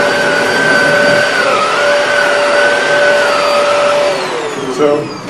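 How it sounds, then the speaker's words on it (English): A Shark Rotator Powered Lift-Away TruePet vacuum cleaner runs loud and close with a steady whining motor drone, its pitch wavering slightly before dipping near the end. "vacuuming just like this"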